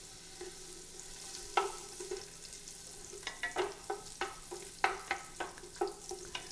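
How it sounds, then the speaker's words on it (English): A half stick of butter melts in a heated pot with a soft steady sizzle, broken by a series of light scraping stirs that tap out an uneven rhythm, faint and with no voices. "now that the pot is heated, I'm going to drop that half a stick of butter"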